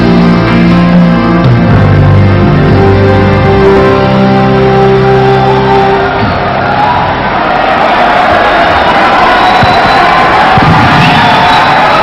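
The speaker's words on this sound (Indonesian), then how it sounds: "Tepuk tangan yang meriah buat Bapak Joko Widodo untuk memberikan sambutannya." A large crowd at a NasDem party halal bihalal gathering cheers and claps loudly for Joko Widodo, a roaring wash of voices and whoops that builds and stays loud, with a sustained musical tone heard at the start.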